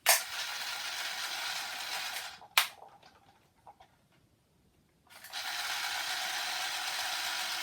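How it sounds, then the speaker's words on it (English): A gel blaster magazine for a Cyma M4 CQB being primed by winding, giving a steady mechanical ratcheting whir that stops for a moment with a few clicks and then resumes, loud and close. "Give it the old mag prime."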